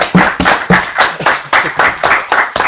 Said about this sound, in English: We have a round of applause for